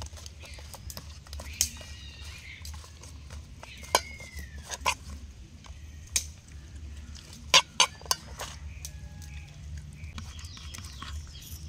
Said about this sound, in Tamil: கறி மசாலா கொட்டிக்கிட்டு அப்படியே மிக்ஸ் பண்ணிக்கங்க